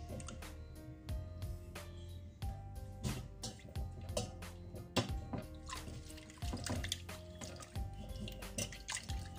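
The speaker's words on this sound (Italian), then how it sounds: "Vado a immergerlo nell'acqua" Water sloshing and dripping in a basin as a baby octopus (moscardino) is rinsed and cleaned for cooking, with soft irregular splashes and trickles, close and fairly quiet, without talk.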